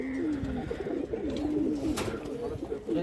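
A female racing pigeon, a tournament bird, gives steady, low, rolling coos close by, with faint voices and light background noise throughout.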